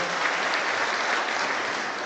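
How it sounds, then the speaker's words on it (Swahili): Congregation applauding during a church service, a steady dense wash of hand clapping filling the room without pause. "Pigieni Mungu makofi kwa sababu ya Karo."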